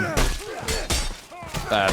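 Melee weapon smashing bot enemies in a Mordhau horde match, heavy crunching impacts and shattering hits in quick succession, with a voice talking over them.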